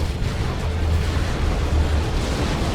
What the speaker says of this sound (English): Was that Dire Avengers getting wiped out by that explosion?